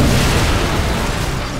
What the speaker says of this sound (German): was eine Explosion